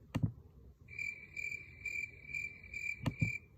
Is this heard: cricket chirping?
yes